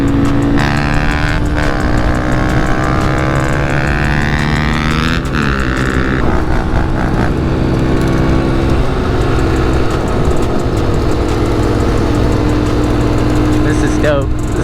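A Honda CRF 110 dirt bike fitted with a big bore kit runs close by, its engine buzzing loudly and steadily with rising and falling revs throughout, while people talk over it.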